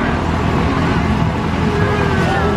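A tractor engine hums steadily as it pulls a hayride at a fall festival, a low continuous rumble mixed with outdoor noise and voices of riders close by.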